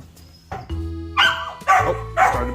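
A dog barks in a series of sharp, loud barks close by, separated by short pauses, with a faint whine at the start; no one speaks.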